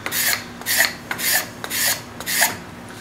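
A steel scraper draws across a hand-carved wooden spoon in five rhythmic rasping strokes, each about half a second long with brief pauses between them. The scraping is close and alone, with no voices.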